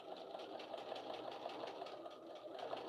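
Sewing machine stitching through seams that strain the machine, a steady, fast mechanical whirr with a regular rhythmic pulse running continuously and close by, with no talking.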